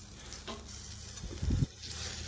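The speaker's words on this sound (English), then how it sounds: "And it's being reverse seared" A smoked lamb rack being reverse seared on a Fornetto smoker gives a soft steady sizzle with a brief louder hiss of fat hitting the heat midway, quiet and close.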